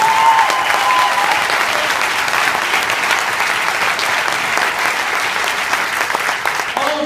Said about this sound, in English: Please give all the leaders and each and every one of you a round of applause for being here.